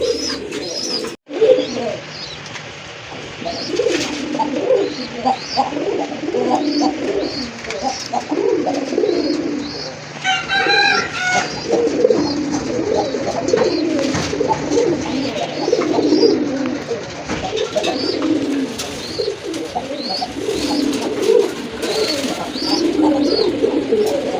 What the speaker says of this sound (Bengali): চলেন কি কি কবুতর রয়েছে বাইরে এখানে আপনাদেরকে দেখাই